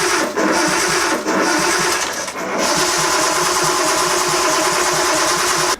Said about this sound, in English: So let's give it a few cranks and see what happens.